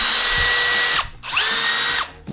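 A Festool CXS 18 cordless drill-driver whirs in two close, loud bursts of about a second each. Its whine rises as the motor spins up and drops as it stops.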